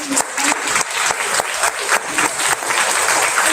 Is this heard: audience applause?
yes